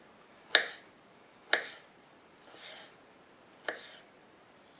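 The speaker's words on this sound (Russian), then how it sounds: "И теперь тоже нарезаем колечками тоненькими." A knife slicing a peeled kiwi into thin rings, four sharp separate cuts spaced about a second apart, each a crisp close tap on the board, with quiet between them.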